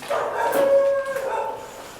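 Dogs around a run-down old house in Hyderabad give a short burst of whining, yelping barks at moderate distance, with a drawn-out whimpering tone in the middle.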